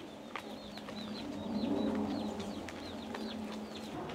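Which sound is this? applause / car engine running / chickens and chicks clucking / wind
chickens and chicks clucking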